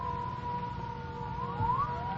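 An air raid siren sound effect in an old-time radio drama, a steady wailing tone with a rising sweep, heard faintly over a low rumbling background without speech.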